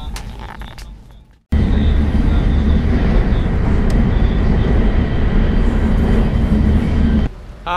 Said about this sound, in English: Osaka right now via bullet train